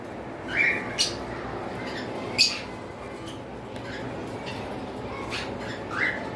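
Caged cockatiels give a few short, sharp squawks and chirps spread across several seconds, moderately near, over a steady background hum without speech.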